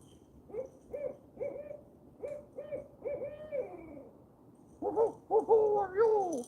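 An owl hoots at night on the bank of the Potomac River in Maryland, a series of repeated low hoots in clusters, moderately near, followed by louder, wavering calls toward the end.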